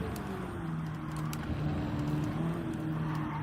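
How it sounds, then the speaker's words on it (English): Race car engine screaming in the Gran Turismo 7 video game, a sustained high-revving drone with shifting pitch, loud and continuous with no pause. "I could barely hear myself because this car is screaming in my ears."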